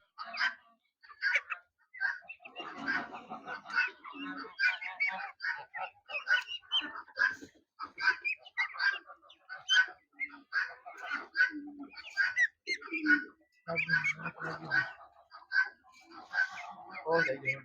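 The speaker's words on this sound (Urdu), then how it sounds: "یہاں پر مور ہیں، بطخ ہیں، اور مرغیاں ہیں، اور مختلف قسم کے یہاں پر جو ہے نا پرندے موجود ہیں" Birds calling at a zoo aviary with peacocks, ducks and chickens, chirps and calls scattered throughout beneath someone talking steadily over them.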